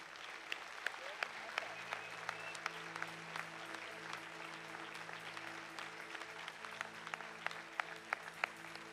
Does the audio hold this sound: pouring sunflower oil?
no